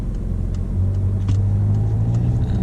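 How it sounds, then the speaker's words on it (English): A car engine pulls away on a hill start during a driving test route near Oxford, with a steady low rumble that rises slightly as power builds, heard from inside the car with no talk. "This is a hill start, you need to give it the power to get it up and over."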